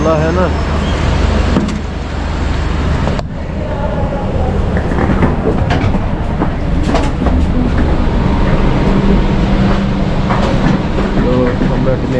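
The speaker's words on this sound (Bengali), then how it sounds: "আমাদের ট্রেনটা একদম রাইট টাইমে ছেড়ে যাচ্ছে" A Srinagar–Jammu train departs, rumbling along rails with steady low mechanical noise and rattling, voices and station bustle mixed in throughout.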